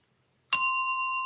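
A single bright bell sound effect strikes once and rings on with a clear, sustained metallic tone, heard alone.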